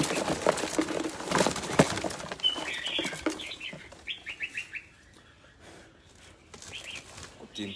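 Birds chirp and tweet in short bursts, with wing flaps and rustling at first, then quieter repeated calls against a soft background.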